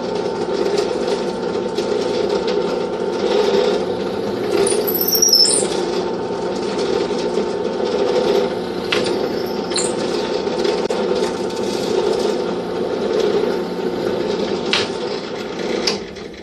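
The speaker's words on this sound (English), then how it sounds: "I'm going to drill a series of holes in my peg box to remove wood using my depth stop to prevent me from going too far." A drill press runs steadily for about sixteen seconds, boring a series of holes into the wooden peg box of a handmade fiddle; a continuous motor hum stays close, with a few brief higher squeals as the bit bites into the wood.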